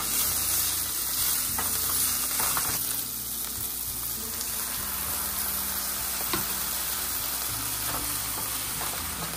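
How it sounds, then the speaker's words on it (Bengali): Food frying in a pan in a home kitchen, a loud, even sizzle and hiss that stays steady throughout, with faint occasional clicks and no voices. "এবার এটা ভালো করে ভেজে নেব"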